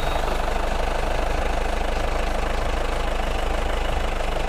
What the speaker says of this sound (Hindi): गाड़ी के इंजन का आवाज़ भी आपको सुनवाते हैं